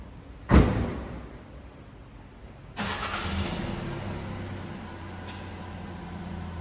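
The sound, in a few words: Fiat Panda hybrid car engine driving up a ramp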